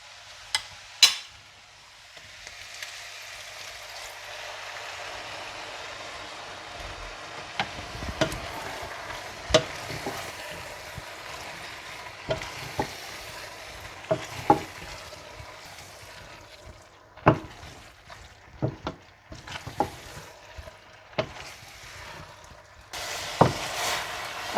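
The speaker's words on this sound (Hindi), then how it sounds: "इस सॉस को आप नूडल्स में डालकर मिला लें।" Thai chicken noodles being stir-fried with sauce over high heat give a steady low sizzle, with intermittent scraping and clacking of a utensil tossing the noodles.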